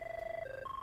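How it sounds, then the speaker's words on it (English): A telephone rings in a short, near electronic trill of stepping tones, heard alone during a hurricane Irma weather update broadcast. "Phone's ringing here."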